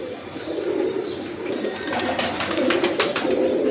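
Teddy pigeons, a flying breed from Pakistan, coo in a close, repeated, soft throaty rhythm, with no voices present.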